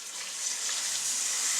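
Water poured into a pan of ghee and wheat flour roasting for kada prasad halwa, giving a loud, steady hissing sizzle throughout.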